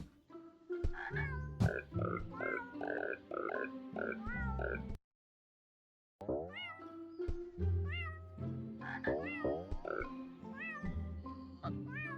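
Cartoonish cat meows from the video game Go Up, repeated in quick succession alongside croaking frog calls and bouncy game sounds, loud and close, with a short silent gap midway and a player talking over it.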